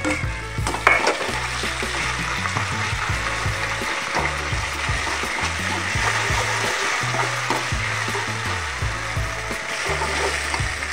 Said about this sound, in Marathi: आता याच्यामध्ये मी आलं लसणाची पेस्ट टाकून घेणार आहे.